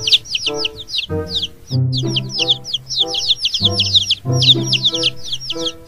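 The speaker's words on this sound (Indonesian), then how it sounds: "ini adalah anak ayam teman-teman" Yellow toy baby chick giving rapid, high repeated chirps over a low electronic tune, steady and close throughout.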